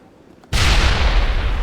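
Grenade detonating in the sci-fi shooter game Mass Effect, a sudden loud, close blast after a quiet moment, followed by a sustained, roaring rumble.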